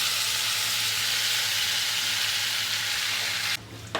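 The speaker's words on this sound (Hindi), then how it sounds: "ये देखिए हमने ये मैरिनेड चिकन ये तेल में डाल दिया है।" Marinated chicken pieces for a restaurant-style Mughlai chicken fry in hot oil with a loud, steady sizzle close up, the hiss dropping sharply near the end, with no talking.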